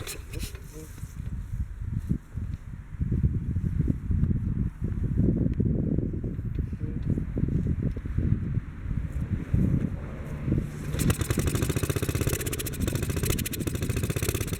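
A 1957 Bolens small engine starts and runs on choke, giving a steady, rough low rumble that fills the whole stretch. The character of the noise shifts slightly toward the end.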